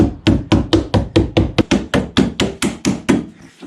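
A jetski collar is hammered back into place with about fourteen sharp, evenly spaced whacks in quick rhythm, loud and close, with no talking.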